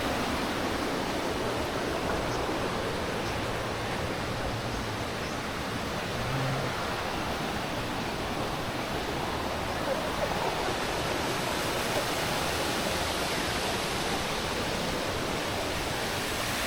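A waterfall at Clarenda's Farm in San Jorge, Samar, Philippines: a dense, steady roar of falling water that fills the whole clip, close and constant with no breaks.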